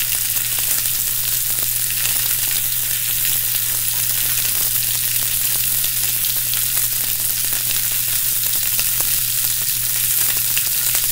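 Shrimp frying in a skillet for a romesco shrimp and couscous dish, giving a steady, dense sizzle and crackle that runs unbroken and fairly loud throughout, with no talking.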